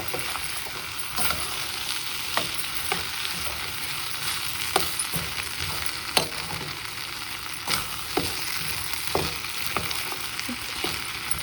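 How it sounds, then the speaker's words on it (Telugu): Boiled corn seeds fry in a spiced oil tempering in a Telangana kitchen, a constant close sizzle punctuated by sharp, regular scrapes and taps of a stirring spoon, with no talk. "తాలింపు వేసి ఇట్లా ఫ్రై చేయడం అంతే, ఈజీగా అయిపోతుంది"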